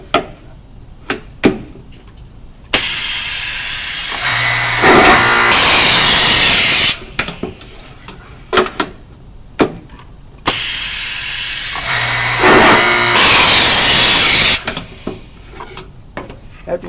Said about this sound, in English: First, we're going to drill our backs.